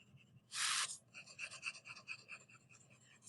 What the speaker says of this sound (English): I'm going to color in the rest of this just with normal pressure using my colored pencils.